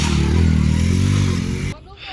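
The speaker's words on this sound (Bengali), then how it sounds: "আর একটি মোটর সাইকেল আছে" A loud, steady motorcycle engine idles close by at a river ferry crossing with a low rumbling drone, then cuts off sharply, leaving faint background noise.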